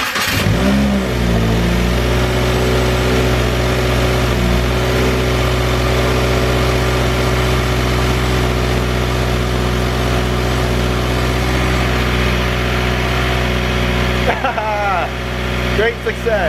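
After a fuel-system repair, a car engine cranks and catches, then settles into a loud, steady idle with a strong low hum running close throughout, briefly rising near the end.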